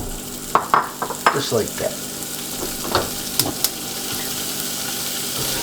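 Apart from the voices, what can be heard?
sausage frying and being stirred in pan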